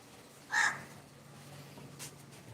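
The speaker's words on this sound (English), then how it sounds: "Here crows." A single loud crow caw rings out nearby, followed by a fainter second call amid quiet outdoor background noise.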